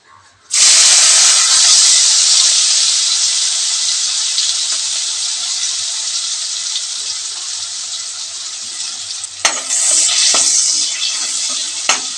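Dried prawns hit hot oil with turmeric, setting off a sudden loud, sustained hissing sizzle close by that eases slightly over time, with a brief rattle near the end.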